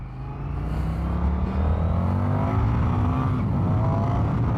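An Indian FTR 1200 S motorcycle engine pulls hard from close by, a deep rumbling roar whose pitch climbs steadily as it accelerates, loud and continuous throughout.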